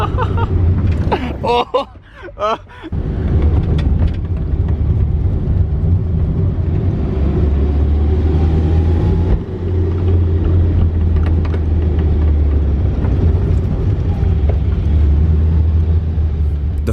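A 1980s Volkswagen car drives along after sitting for ten years, its steady low engine rumble and road noise continuous and close throughout, with a brief voice near the start.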